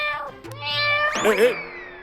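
A cat in a Tamil comedy TV series gives a long, loud, drawn-out meow with rising and falling pitch, close and clear, with a faint voice beneath it at the start.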